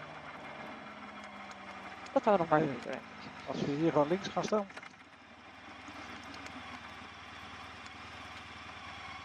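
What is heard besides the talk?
motorcycle engine idling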